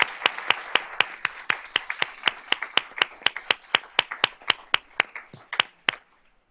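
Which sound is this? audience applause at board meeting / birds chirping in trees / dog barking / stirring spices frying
audience applause at board meeting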